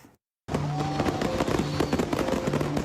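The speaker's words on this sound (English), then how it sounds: "mishandled illegal fireworks ignited, triggering a massive blast that shook the neighborhood" Illegal fireworks bursting around midnight on New Year's Eve in a Hawaii neighborhood, a dense loud barrage of rapid crackling explosions that kicks in abruptly after a moment of silence and keeps going without letup.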